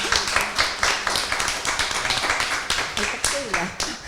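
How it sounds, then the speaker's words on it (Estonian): Audience at a panel discussion on gender identities and mental health in Tartu breaks into steady, fairly close applause, dense clapping sustained throughout with voices murmuring underneath. "Teeme neile suure aplausi."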